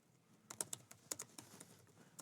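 Fast, quiet typing on a computer keyboard while composing an email, a quick run of light clicks at close range with no talking.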